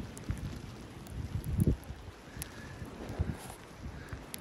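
Wind gusts buffet the microphone during heavy snowfall in the Vercors, Drôme, in uneven low bursts with a faint hiss behind them.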